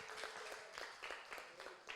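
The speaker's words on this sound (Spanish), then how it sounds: "un aplauso para todos nuestros ponentes" Audience applause at an internal medicine symposium, a soft, steady patter of many hands clapping from a distance, fairly quiet and continuous.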